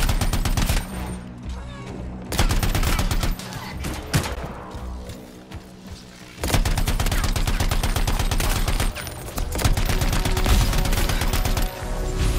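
Heavy gunfire from a very large weapon in the video game Anthem, loud and sustained bursts of rapid shots with thumping blasts, broken by a brief lull before the firing resumes.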